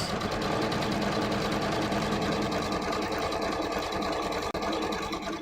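A sewing machine stitches strips of fabric together with navy thread, running steadily and close up with a fast, even mechanical whir and a brief click near the end.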